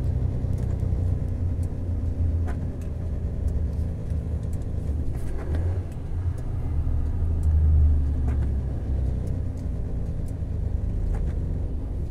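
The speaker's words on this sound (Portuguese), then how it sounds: "nós conseguimos parar esse caminhão somente usando o freio motor." A Volvo FH truck slowing on its engine brake on a mountain road, a deep steady rumble with low droning tones that swell and ease as it decelerates, heard from inside the cab without talk.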